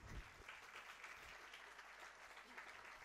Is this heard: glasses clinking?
no